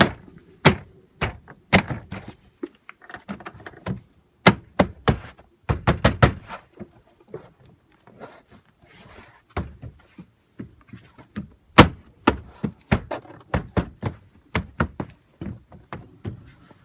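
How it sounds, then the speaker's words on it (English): Plastic door panel clips on a 2007–2013 Chevy Silverado door being pressed home by palm, giving a series of sharp, close snaps and thunks in irregular bursts around the panel. "take the palm of your hand and just press up against it, and you actually hear them snap right back into place"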